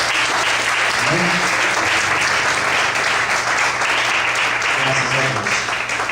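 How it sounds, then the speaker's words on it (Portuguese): A church congregation claps loudly and steadily throughout a sermon service, while a voice speaks briefly over the applause. "Vamos aplaudir bem forte ao Senhor Jesus."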